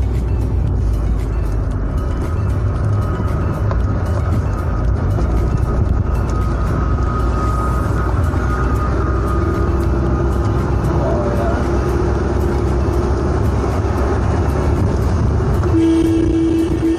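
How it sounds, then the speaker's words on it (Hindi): A car climbs a winding hill road from Jam Gate toward Vanchu Point near Indore, its engine droning steadily up close with an occasional horn toot, while someone talks over the ride. "गाड़ी चला रहा हूँ"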